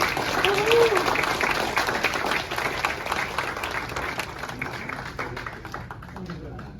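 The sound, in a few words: audience applause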